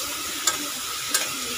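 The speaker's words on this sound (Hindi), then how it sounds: "उसी तेल में मैंने अनियन डाल दिया है।" Onions fried in oil in a pan for pulao, a steady soft sizzle running throughout with two brief sharp crackles or utensil taps, close and fairly quiet, no talking.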